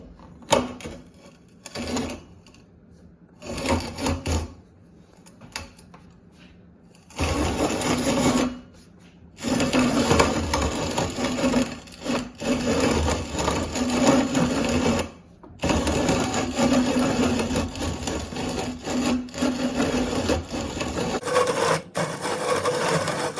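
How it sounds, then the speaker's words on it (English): A WonderMill Junior Deluxe grain mill grinds hard white organic wheat with a loud, continuous gritty whir, starting in short bursts and then running steadily with brief stops. "I will say that the wheat is far easier to grind than the corn."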